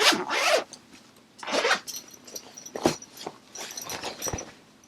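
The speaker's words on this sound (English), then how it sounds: "Has a Knit for Brains wood zipper pull." Zipper on a large wireframe knitting bag with a wooden zipper pull, zipped in several quick rasping strokes, loud and close, with short pauses between pulls and no talking.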